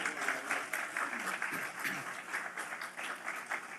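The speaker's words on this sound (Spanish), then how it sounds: "Bien fuerte ese aplauso al Señor." A church congregation applauds steadily, dense clapping holding for several seconds at moderate distance, with faint voices mixed in.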